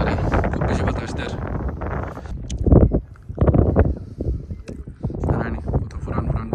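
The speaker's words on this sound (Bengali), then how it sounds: "খুব বেশি বাতাস দেয়" Strong wind off Lake Erie at Fort Erie, Ontario buffets the microphone in loud, uneven gusts with brief lulls, while people talk intermittently.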